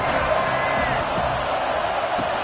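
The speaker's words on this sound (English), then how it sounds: "Man, this crowd really affecting the football game" Home crowd at a Gamecocks football game, a dense, loud wash of stadium roar and cheering that stays steady and close for the whole moment.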